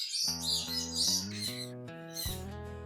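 Loud, close calls of parrots and other birds at a nature park: harsh squawks and drawn-out whistling cries repeating in bursts, with no talking.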